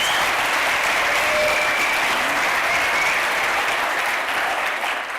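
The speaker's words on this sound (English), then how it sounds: "give her a round of applause first." Guests at a university fundraising gala dinner give a sustained round of applause, dense and steady clapping filling the room for several seconds before easing slightly at the end.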